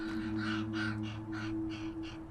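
A raven caws repeatedly in the sage country of North America, about seven harsh, evenly spaced calls over a low steady hum, fairly close and clear.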